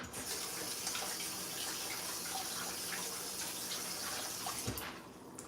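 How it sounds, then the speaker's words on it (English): A metal spoon rinsed under a running kitchen tap, with a steady close rush of water hitting the sink that continues for several seconds before easing near the end. "I'm only rinsing this spoon for y'all because it is mine"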